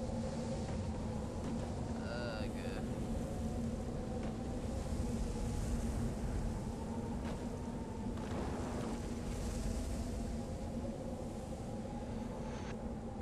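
Wind buffets a microphone outdoors in a steady, loud, rumbling roar that fills the whole stretch, with a few faint higher tones above it.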